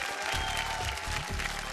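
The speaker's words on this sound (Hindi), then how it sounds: "तो जोरदार तालियों से स्वागत करी हमनी के जजेस लवली रश्मि देसाई जी" A studio audience on the Big Memsaab television show applauds to welcome the judges, with dense clapping continuing steadily under music.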